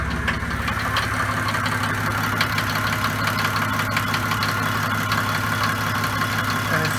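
A Mercedes OM 603 diesel engine idles just after a cold start, a loud, steady, close rumble with a rapid diesel knock that holds even throughout, with no voices.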